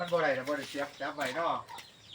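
Chickens at a jungle fowl farm cluck close by in a quick series of throaty, wavering calls that rise and fall across about two seconds.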